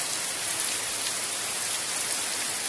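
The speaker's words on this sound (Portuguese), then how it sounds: "mas a chuva tá forte mesmo" Heavy rain pours steadily and loudly during a thunderstorm, with water running and dripping off the roof eaves in a dense, continuous hiss with no voices.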